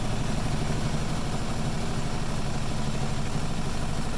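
A compact washer-dryer installed in an RV drains and rattles, a close, steady mechanical drone with a dense buzzing rattle running unbroken throughout.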